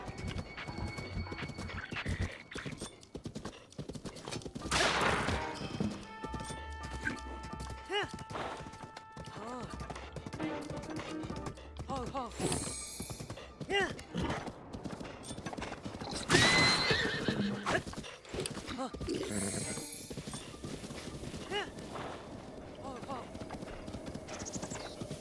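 A horse in Breath of the Wild gallops with rapid, continuous clip-clopping hooves and gives loud whinnying neighs during horse combat, mixed with game effects and background music.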